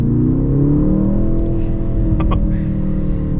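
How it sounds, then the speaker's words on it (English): A 2024 Mercedes-AMG GLC 43 with a turbocharged 2-liter four-cylinder accelerates hard in Sport Plus mode, a loud, steady engine drone rising in pitch from inside the cabin, with a couple of brief clicks partway through. "It still definitely accelerates like a turbo 2-liter 4-cylinder"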